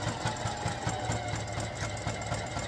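A sewing machine stitches a repair on a Canucks hockey jersey crest, running as a steady, fast mechanical whir with a rhythmic pulse. It is close and continuous, with no talking.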